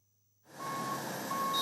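A mine truck reversing while loading topsoil, a steady high beep tone over the truck's engine rumble, which starts up suddenly after a moment of silence.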